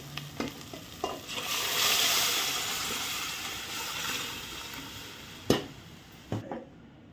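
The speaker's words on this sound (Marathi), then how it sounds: "अशा प्रकारे मसाला व्यवस्थित भाजून घ्यायचा आहे सतत हलवत" Spice masala for Satara-style mutton rassa roasting in a pan under constant stirring, a continuous close sizzle broken by sharp spatula scrapes and knocks against the pan.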